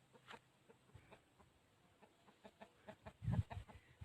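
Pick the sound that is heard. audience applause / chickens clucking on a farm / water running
chickens clucking on a farm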